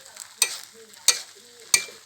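Three sharp clanks of a spatula against a wok, evenly spaced, with a soft sizzle of wide rice noodles stir-frying for pad see ew in between.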